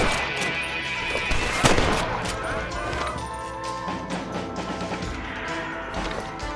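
Gunshots crack during a shootout in a video game, a sharp nearby blast followed by scattered shots and rumbling echoes beneath continuous shouted talk.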